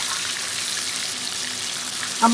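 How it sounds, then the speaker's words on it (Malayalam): Masala-coated chicken pieces deep-fry in hot oil with a dense, steady sizzle close by, brightening into a sharper crackle at the very end, with no voices. "ഓയിലിനകത്ത് മുക്കി പൊരിച്ച് എടുക്കുക"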